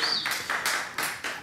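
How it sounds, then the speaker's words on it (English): A studio audience on a breakfast radio show claps in several loud bursts, each swelling and fading in turn, with no talk over it. "I paid them all to clap"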